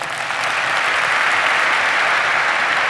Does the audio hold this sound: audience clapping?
yes